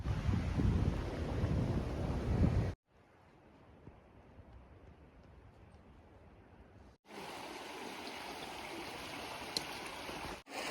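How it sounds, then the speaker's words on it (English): Lick Creek on the Appalachian Trail, a steady rush of flowing stream water mixed with wind noise, loud at first, then dropping to a softer, more distant wash before rising again, no talking. "I just had to cross Lick Creek right here."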